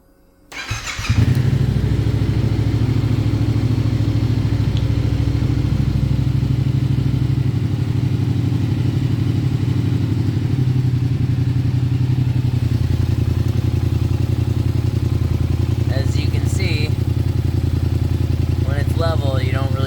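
A Yamaha FZ-07 sportbike engine cranks and catches after a brief quiet start, then settles into a loud, steady, close idle that runs unbroken to the end.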